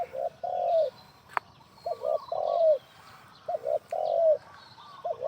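A dove coos in repeated soft phrases, three groups of low hooting notes, close and clear over a quiet background with a faint chirp.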